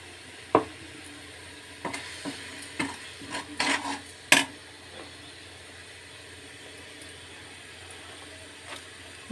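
Masala powders and rice get stirred together in a pan for coriander-mint rice, with scattered scraping clinks of a spoon in short irregular bursts over a quiet low background, unaccompanied by speech.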